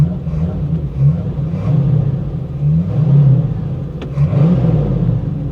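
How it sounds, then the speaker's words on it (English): A 1973 Ford Mustang engine idles with a low rumble, then revs up and settles repeatedly, close by and steady throughout. "listen to that. No binding up of the starter, nothing. It fires up just like it's supposed to."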